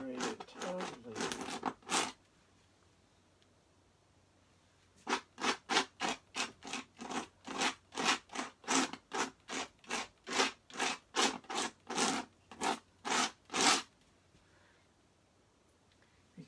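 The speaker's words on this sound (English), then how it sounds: "hear that scraping? That's that crushed pecan shells that we worked on creating that texture yesterday" A paintbrush scrapes paint across a rough crushed-pecan-shell texture in a quick series of close, raspy strokes: a few, then a pause of about three seconds, then a long rhythmic run of roughly twenty.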